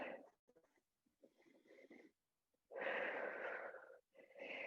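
Someone holding a yoga pose in a toe stand flow takes a full round of breath, with slow, audible inhales and exhales in breathy bursts and short pauses between them, close and quiet.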